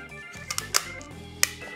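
A Nokia BL-4C battery is fitted into a Nokia N70 phone, giving a few small, close plastic clicks and taps with quiet gaps between them and no talking.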